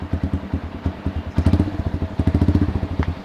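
A custom motorcycle's engine, left unused for two months, fires in uneven rapid bursts of throaty popping revs on a test ride, close and loud with short pauses and no talk.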